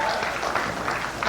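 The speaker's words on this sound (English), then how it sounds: "Clap your hands if you own a house." A comedy club audience claps their hands in a short burst of dense, steady applause at moderate distance.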